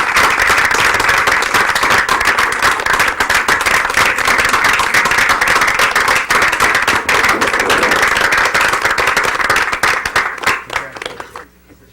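Clapping from the audience at a board of education meeting after a motion passes, a dense run of individual hand claps, loud and close at first, then thinning and fading to a few scattered claps.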